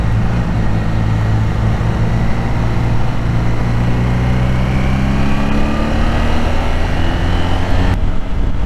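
Honda VF500F motorcycle engine under way, a loud continuous drone with rising pitch as it accelerates, wind rush throughout, no talking.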